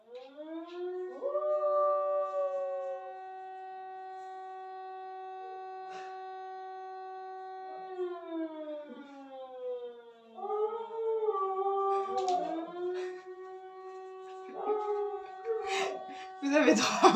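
A dog howling long, wavering tones close by, with a person howling along in imitation; the howls overlap and a voice speaks briefly near the end.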